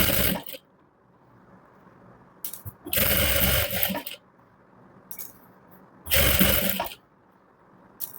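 A sewing machine stitching fabric in short runs, three loud bursts of rapid mechanical whirring separated by quiet pauses, close up with no talking.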